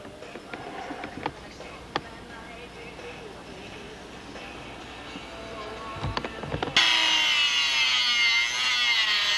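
A parting wheel trimming a small plywood cap on a model build: light scraping and tapping at first, then a loud continuous grinding whine that starts abruptly and carries on to the end.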